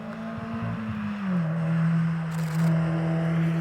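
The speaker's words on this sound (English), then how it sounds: "I can hear a car coming." A car on the Doune hillclimb course is approaching, its engine tone a steady drone that rises in level and pitch toward the end, moderately near, with no talk.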